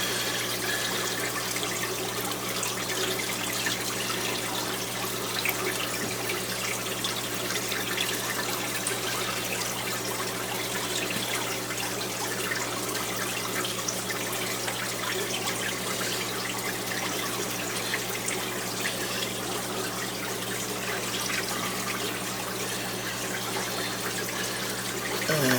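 Aquarium water running through a siphon hose while black beard algae is cleared from a planted tank, a steady, even rushing trickle that holds at one level throughout, close and with no talk.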